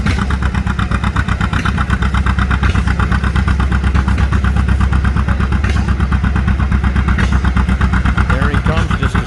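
An old John Deere tractor at a tractor pull, its engine chugging loudly and steadily at a fast even beat throughout, close and unbroken.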